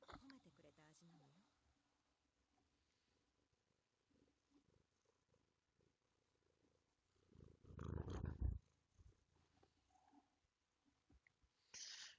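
A cat purring in a lap, from the Nekopara visual novel game: a faint low purr with a louder rumbling burst near the end, under quiet background sounds and some speech.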